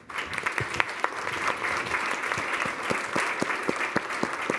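Applause from the audience at an Internet Governance Forum 2019 workshop session: dense, sustained clapping of a sizable crowd filling the room, steady throughout with no talk.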